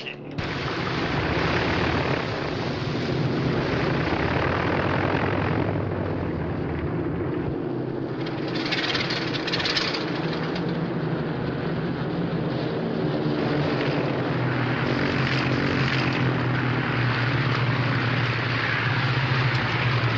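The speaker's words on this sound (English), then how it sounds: "That's 32 Squadron coming into land now." RAF squadron aircraft come in to land, a wartime film scene with a continuous loud roar of engines that swells and fades, overlaid by speech throughout.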